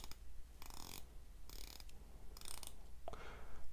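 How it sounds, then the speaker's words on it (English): The rotating bezel of a Bulova Oceanographer Devil Diver watch is turned in three or four short bursts of rapid ratcheting clicks, close and crisp over faint background hiss. "In terms of clicks, this is a 120 click bezel."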